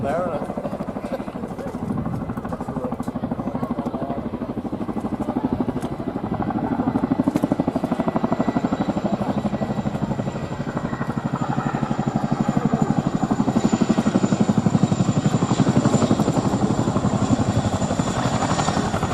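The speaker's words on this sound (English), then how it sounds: "And there you go, the two-wheel taxi, landing like a conventional aircraft." Chinook helicopter at an air day landing with a two-wheel taxi like a conventional aircraft, its heavy rotor thump and engine roar steady and loud throughout, building slightly toward the end, with a commentator's voice over it.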